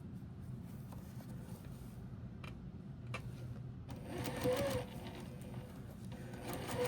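A sewing machine stitching a scrap postage-stamp quilt, with a low steady motor hum broken by brief pauses and then a busier, brighter burst of stitching in the second half.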